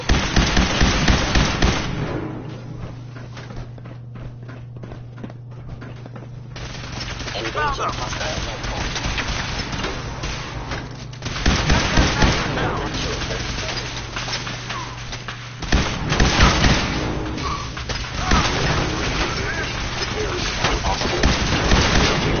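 Gunfire in Fallout 4 breaks out in loud, dense bursts of rapid shots, with intense volleys at the start and again later and quieter stretches in between, over a steady low hum.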